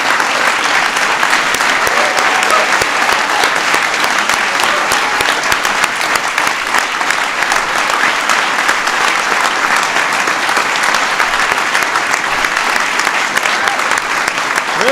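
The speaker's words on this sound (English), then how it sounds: "give them a big round of applause" A large ceremony audience gives a loud, sustained round of applause for the 2015 Presidential Medal of Freedom recipients, thick continuous clapping that holds at full strength for the whole stretch.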